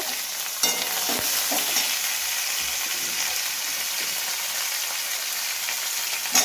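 Chopped capsicum, tomato and green chili sizzle steadily in a hot pan with oil and a bay leaf, a continuous close frying hiss broken by a few soft stirring knocks.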